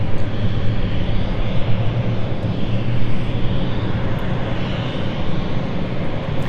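A BA CityFlyer jet departing London City Airport on a Florence flight gives a steady, loud, continuous engine roar that holds for several seconds, with no voices.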